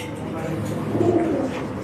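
Pigeons coo in a loft, a low, continuous murmuring rumble close by, with a voice present alongside.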